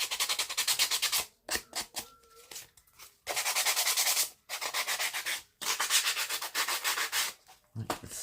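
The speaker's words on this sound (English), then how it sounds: "you can grab your sandpaper and just give that a nice sand" Sandpaper scrubs a paper journal card in quick back-and-forth strokes, producing bursts of close, loud scratchy rasping separated by brief pauses.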